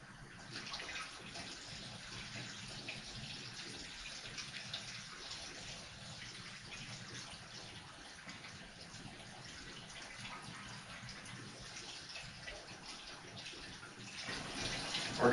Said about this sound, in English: I'm going to uncap this tube, fill it up with water.